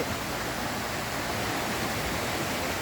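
A stream flows right beside a tent campsite in Chiang Mai during the rainy season, a steady, dense rushing of water that fills the whole moment with no other sounds.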